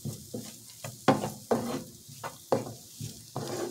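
Chicken breast fries in a pan with turmeric and pepper, with a soft sizzle broken by regular stirring scrapes and clacks about every half second, close up and with no talk.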